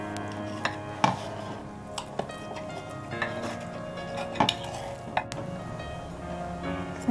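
A soft vegetable egg omelette is cut on a plate, giving a series of light, irregular taps and clinks of utensil against dish over a quiet humming background.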